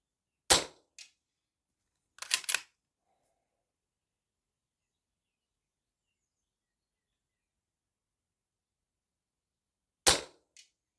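A Daystate Alphawolf air rifle fires outdoors: three sharp, close cracks spaced well apart, each followed by a faint later tick, with near silence between them.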